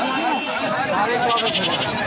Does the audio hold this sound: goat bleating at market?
yes